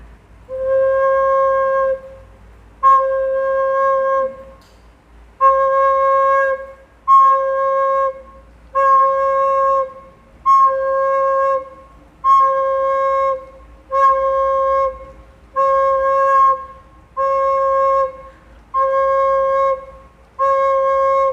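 In a Grade 6 music lesson, a teacher plays half notes on an instrument: about ten evenly spaced, clear held tones, each lasting two beats and followed by a short silence, with no talking.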